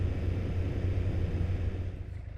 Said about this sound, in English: I'm going to keep the engine running because it's a real hassle starting it again.